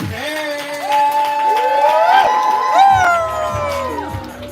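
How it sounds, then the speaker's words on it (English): Whoops and cheers rise from an audience at a Houston poetry slam, a lively burst of crowd noise that swells through the middle and stays close and loud for a few seconds. "We're clapping. We're building energy. We're making all the noise."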